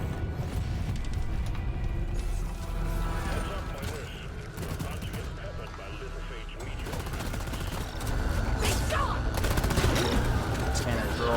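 Zhukov SMG fire rattles in rapid, sustained bursts during a video game battle, loud and dense amid explosions and clatter, with a voice talking over it.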